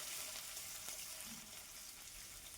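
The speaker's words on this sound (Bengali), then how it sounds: "এবার একটু লাল লাল করে ভেজে নিচ্ছি" Crushed ginger and chopped garlic fry in a pan with a faint, steady sizzling hiss throughout.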